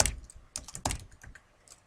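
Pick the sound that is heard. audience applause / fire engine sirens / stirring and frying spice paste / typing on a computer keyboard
typing on a computer keyboard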